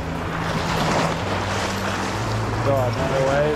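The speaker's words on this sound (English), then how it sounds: "now the waves breaking on my toes" Shallow surf washes over bare feet at the water's edge while sight fishing for sheepshead, a steady close rush and fizz of breaking waves with wind buffeting the microphone.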